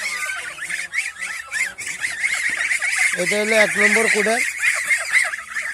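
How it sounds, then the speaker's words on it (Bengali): A flock of ducks in a farm pen quacks and honks continuously close by, while someone talks over them. "এটা হলো 1 নম্বর কুড়ের হাঁস।"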